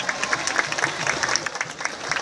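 Outdoor applause from a crowd at a civic parade tribute in Brazil, honoring a poet; a steady, moderately loud patter of many hands clapping, with no clear talking over it.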